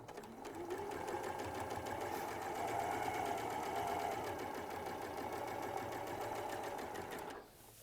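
Close sewing machine stitching quilt pieces in one long steady run, its even mechanical whir holding for several seconds, then cutting off near the end.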